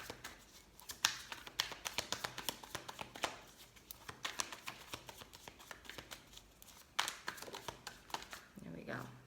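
Tarot cards being shuffled in repeated quick riffles and taps, crisp bursts of snapping card edges near and fairly quiet, with brief pauses between.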